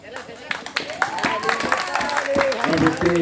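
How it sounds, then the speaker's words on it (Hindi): An audience bursts into brisk, uneven clapping that builds steadily, with voices talking over the applause. "ताली बजती है यहाँ पर।"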